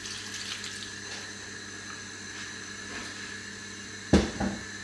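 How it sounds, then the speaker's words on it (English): Water is poured into a pot of freshly harvested plums on the heat for jam, a faint steady trickle followed near the end by a brief louder splash or knock. "we're going to add 125 milliliters of water"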